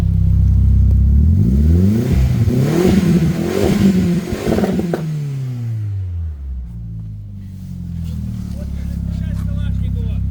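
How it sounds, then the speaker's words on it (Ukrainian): A 1999 Audi TT engine revs loudly with a deep throaty exhaust rumble, rising and falling, then settles into a steady low idle. "Нереально крута звук вихлопа"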